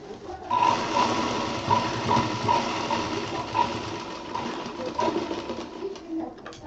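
A sewing machine stitches a round fabric bag for kids, its steady mechanical whir running with small ticking clicks, fairly close, with no talk.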